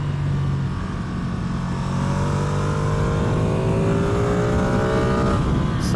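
A 2024 Ducati Streetfighter V2 engine pulls hard under acceleration, its rising whine climbing steadily through the gear over loud wind rush, heard from the rider's position.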